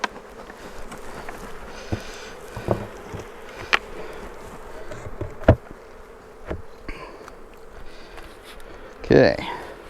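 Honeybees buzz steadily around an open hive being smoked before its lid goes back on, a dense continuous drone with scattered sharper ticks and brief louder passes close by.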